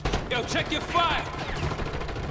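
Call of Duty: Black Ops 6 gunfire during a Kill Order match: quick bursts of shots crackle under a voice shouting radio-style callouts through the clip.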